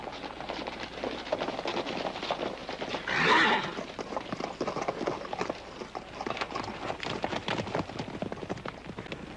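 A herd of horses is driven and handled by riders, with a loud whinny cutting through continuous rapid hoofbeats and rustling movement, all fairly close and busy.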